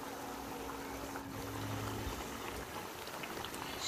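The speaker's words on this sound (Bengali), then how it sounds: "2 মিনিটের মতো আমি সব কিছু ফুটিয়ে নিব ভালো করে।" A pot of pangas fish curry with water bubbling at a steady boil, a low continuous rumbling simmer close by, with no voices over it.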